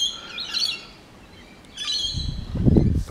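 Birds calling by a creek along a bush trail in Australia, with bursts of chirps and tweets near and far, including lorikeets, finches, noisy miners, ravens and cockatoos, plus some low rustling toward the end.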